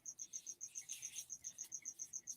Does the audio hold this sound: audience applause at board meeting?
no